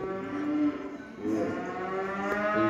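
A cow moos repeatedly in long, loud, harmonic calls close by in a ranch cutting clinic arena, with a brief pause between bellows.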